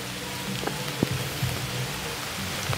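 Steady rain falls outdoors in a cemetery, an even wash of patter with a few louder drops hitting nearby, no voices.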